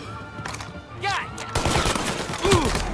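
Gunfire in the crime game Mafia: The Definitive Edition, a burst of shots breaking out loud and close amid frantic action, with voices heard briefly in the mix.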